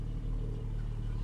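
A Porsche GT4 in Martini livery idles with a steady, low engine rumble, continuous and fairly close for a short moment at a Le Mans circuit.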